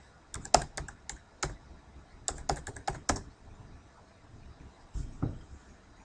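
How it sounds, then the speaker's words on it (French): Computer keyboard typing heard up close in a quiet room: quick bursts of crisp key clicks in irregular clusters, then a pause and a few final taps, with no talking. "Je tape tutoriel dans la case blanche"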